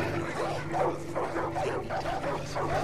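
Dogs bark and yip repeatedly in Far Cry 5, several short barks in quick succession over a steady low game hum, fairly close and continuous throughout.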